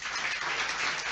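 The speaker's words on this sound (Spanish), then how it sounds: "si ese aplauso es para Cristo, yo creo que tiene que ser más fuerte" Church congregation at a Pentecostal service applauding, a steady wash of many hands clapping, loud and continuous.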